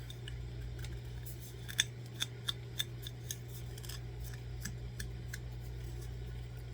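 Scissors snip the edges off a cured eco-resin pour in a handful of sharp, separate cuts spaced about half a second apart, close and crisp over a steady low hum.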